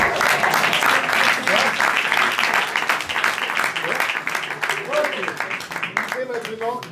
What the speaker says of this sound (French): Et on peut applaudir très fort.